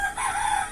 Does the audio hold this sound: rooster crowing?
yes